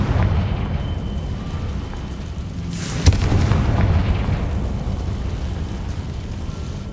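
A Confringo fire spell blasts in Hogwarts Legacy, a single sharp crack followed by a rumbling burst that lingers over a steady low background roar.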